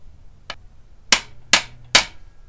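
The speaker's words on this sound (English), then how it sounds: "I'm going to use my nifty little hammer driver to tighten it just a little more" A hammer driver struck to tighten a screw on the wrist pin service plate of a Subaru EJ25 engine: one light tap, then three loud, sharp metallic blows about half a second apart, close up and alone.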